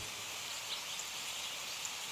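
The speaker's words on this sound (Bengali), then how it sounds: "চারদিকে বৃষ্টির শব্দ" Rain in a meditation recording sets a steady, even hiss of heavy downpour around a figure under a tree in a forest, continuous and moderately loud with no voices.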